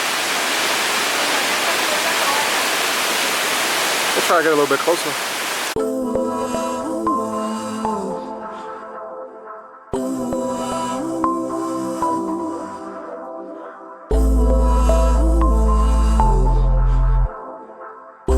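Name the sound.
Santa Rita waterfall, Salento, Colombia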